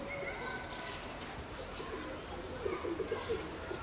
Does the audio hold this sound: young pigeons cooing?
yes